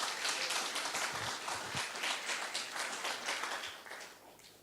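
A church congregation claps together, a fairly faint but steady wash of handclaps heard from a distance that fades slightly at the close.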